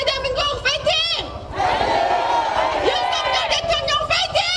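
A rally crowd at a Save Korea national emergency prayer meeting in Incheon shouts a slogan together, a loud massed roar of voices with a leader's call before it, building into sustained cheering.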